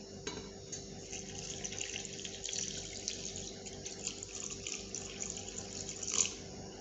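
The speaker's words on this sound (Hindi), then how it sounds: "अब हम हस्बे ज़रूरत पानी डालेंगे" Water is poured into a pot of beef korma, a steady low splashing and trickling stream that runs continuously and fairly quietly, with a brief brighter clink near the end.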